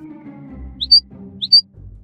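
Two short, bright bird chirps a moment apart in an animated read-aloud of an Elephant and Piggie story, standing clear over a soft low background.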